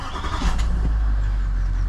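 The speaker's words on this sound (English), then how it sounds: "Engine on." A Land Rover L405 engine cranks and fires, a short starter whir catching into a steady low idle rumble close by.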